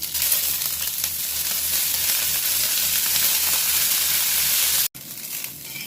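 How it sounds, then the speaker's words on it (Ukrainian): Cabbage sizzles and crackles steadily in a hot pan, frying until golden, with a loud, continuous frying hiss and a brief break near the end. "смажу капусту до золотистого кольору."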